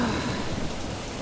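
A thunderstorm with lightning in the video game Don't Starve: Shipwrecked brings a dense, steady roar of heavy rain with a low rumble underneath, loud and continuous throughout.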